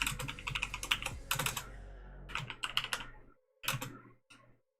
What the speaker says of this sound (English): I'll type this in chat